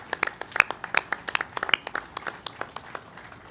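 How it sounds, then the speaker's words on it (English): Applause from an audience at a Long Island Rail Road news conference, a modest group clapping in quick distinct claps, fairly faint and unaccompanied by talk. "Please, a round of applause for the great men and women of the Long Island Railroad."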